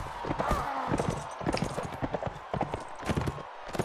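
Horse hooves galloping in the video game Mount & Blade: Warband, a dense, fast clip-clop rhythm running throughout over busy battle noise, with faint voices mixed in.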